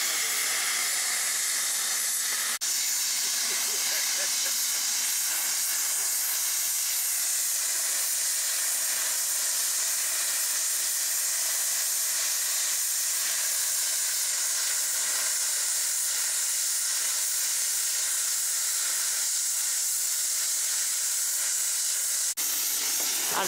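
The Tornado steam locomotive hauling the Devon Belle at Honiton station releases a long, steady hiss of steam that carries on at even loudness for over twenty seconds, with no voices.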